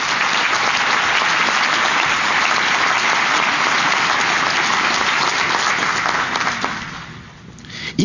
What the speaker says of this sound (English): Let's give both of these young women a round of applause.